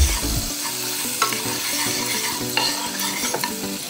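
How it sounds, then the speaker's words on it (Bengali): Butter and a spoonful of oil sizzle in a hot wok, a dense continuous crackle with a few sharp ticks and scrapes of stirring, close and loud, with no voices. "দিয়ে দিচ্ছি কিছুটা বাটার, আর বাটারটা যাতে জ্বলে না যায় দিয়ে দিচ্ছি 1 চামচ তেল"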